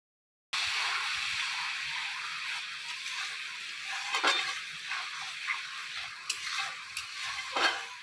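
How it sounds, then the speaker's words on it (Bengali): Spice paste with ginger paste and salt is fried and stirred in a pan for a fish curry, giving a moderate, close sizzle that starts suddenly after a moment of silence, with spatula scrapes and brief clinks over it. "এরপরে কিন্তু ভালোভাবে কষিয়ে নিতে হবে যতক্ষণ না মশলা থেকে তেল ছেড়ে আসছে"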